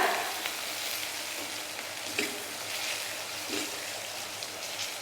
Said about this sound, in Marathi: कांदा टोमॅटो बघा थोडा नरम झालाय आता आपल्याला ह्याच्यात मसाले टाकायचे आहेत घरगुती लाल मसाला आणि हळद परतवून घेऊया